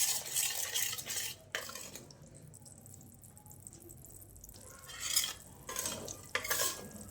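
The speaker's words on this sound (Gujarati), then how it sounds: "વચ્ચે વચ્ચે આ રીતે હલાવતા જવાનું, તળિયે લોટ બેસે નહીં" A utensil scrapes and stirs sorghum flour roasting in a pan over low flame, with bursts of scraping separated by a quieter stretch; no voices.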